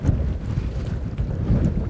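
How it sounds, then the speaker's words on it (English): Strong outdoor wind buffets the microphone on a fishing shore, a continuous low rumbling gust with no voices. "Very windy."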